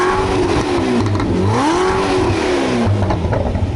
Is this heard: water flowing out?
no